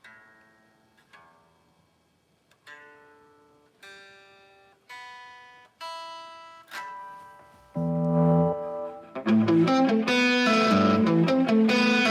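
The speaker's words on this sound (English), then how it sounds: "I'm backing off the distortion just a little bit" Electric guitar recorded through a distortion effect with the gain backed off slightly: several single notes ring out and decay one after another, then louder sustained chords crash in, playing alone without voices.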